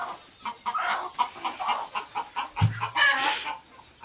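Free-range village hens in a poultry shed, sitting to lay eggs, cluck repeatedly in an uneven rhythm, with one louder squawking burst near the end and no voices.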